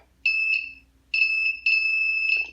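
An Arduino distance-alarm buzzer sounds a piercing electronic tone in three sustained bursts with short gaps, loud and close, ending with a brief rustle.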